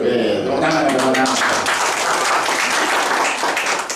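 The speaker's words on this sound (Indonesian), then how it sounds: "Tepuk tangan teman-teman." A church congregation bursts into loud, sustained applause during a sermon, dense clapping filling the whole stretch with a cheer or two mixed in, staying steady until it thins slightly at the end.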